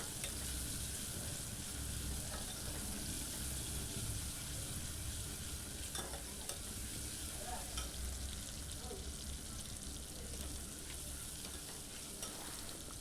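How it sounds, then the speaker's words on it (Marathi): Tomato fries in oil in a pan with a continuous soft sizzle and faint occasional stirring clicks, steady and fairly quiet without speech. "2 ते 3 मिनिटांसाठीचा टोमॅटो आपल्याला भाजून घ्यायचा आहे"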